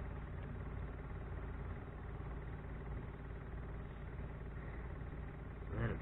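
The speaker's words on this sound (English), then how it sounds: "That's a fuel pump priming." A generator fuel pump priming after repair, heard as a faint, steady low hum with a buzzing tone that holds evenly, then a short louder bump at the very end.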